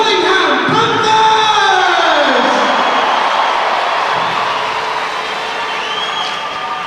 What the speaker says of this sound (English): let's hear a roar for your